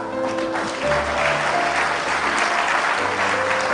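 An audience at a sermon bursts into applause, a close, dense round of clapping lasting a few seconds with faint voices and tones underneath.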